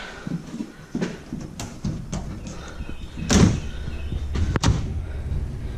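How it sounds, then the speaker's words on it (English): The metal doors of an old pie safe rattle and clunk, giving several knocks and thuds with one stronger bang partway through, under a busy, echoey background. "It's got the metal doors."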